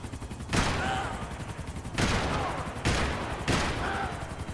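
Bursts of gunfire from Max Payne 3 erupt in three or four loud, dense volleys over a continuous rumbling battle backdrop, with brief lulls between salvos.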